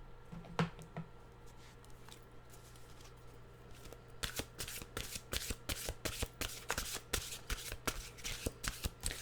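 A deck of mystical wisdom oracle cards shuffled by hand, starting with a few soft taps and then a long run of crisp, evenly spaced riffling flicks, close and quiet against a faint steady hum.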